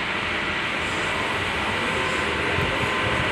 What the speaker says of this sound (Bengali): অর্থাৎ ইঞ্জিনটা চলতে থাকবে।